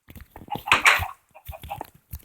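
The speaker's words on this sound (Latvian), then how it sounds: "Šitien vistas sēž." Minecraft PE chickens cluck in short, choppy bursts, several calls in quick succession with a louder cluster near the middle, close and alone without talk.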